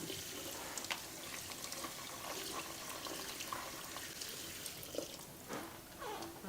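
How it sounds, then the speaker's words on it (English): Water drains through a strainer as soaked chickpeas, soaked overnight with baking soda, are rinsed in a kitchen sink, a quiet steady trickling wash with a few brief splashes and no talk. "I'm just going to strain them right now"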